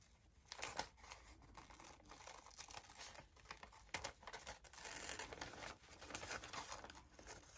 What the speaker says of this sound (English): Now what we're gonna do is cut the paper out.